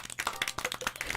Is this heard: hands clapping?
yes